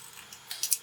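A few quick scissor snips through a piece of black cardstock, three short crisp cuts bunched near the end, faint and close, with no talking.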